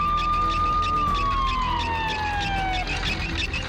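An ambulance siren wails loud and close in a cartoon superhero scene, one long tone sliding slowly downward as if passing or arriving, over a steady rumbling background.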